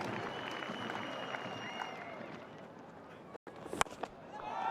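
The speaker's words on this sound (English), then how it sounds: "the Afghanistan team standing up to applaud" Crowd applause at a 2015 World Cup cricket match between Sri Lanka and Afghanistan, the Afghanistan team standing to applaud Asghar Stanikzai's innings; a steady, fairly faint wash of clapping with a short dropout near the end.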